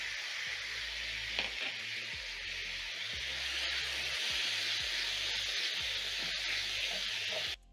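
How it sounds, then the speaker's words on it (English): Tomatoes and tomato paste sizzling with carrots in a hot pan for a beef curry, a steady bright frying hiss running throughout with a few soft stirring bumps, close and without speech. "Toss the tomatoes together with the carrots and let the tomatoes cook for around a minute until fully reduced or cooked through"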